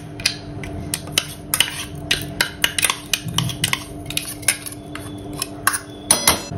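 A metal spoon clinks and scrapes against a pan while mustard split seeds and ground fenugreek are mixed into warm oil for lemon chilli pickle; sharp, irregular taps repeat close by throughout, with no talking.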